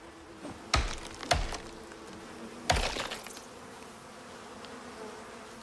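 Insects buzz around a hive in the survival video game Icarus, with a few sharp loud bursts standing out over a steady low background hum.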